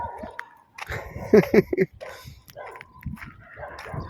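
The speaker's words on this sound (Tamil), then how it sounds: "பாருங்கள் எப்படி அங்கங்கே நாய் இருந்து குலைக்குது ஆள் கண்ணோடனே குலைக்குது" Dogs bark across an open, empty area, with a few sharp barks in a cluster near the middle and scattered yips elsewhere, heard under a person talking throughout.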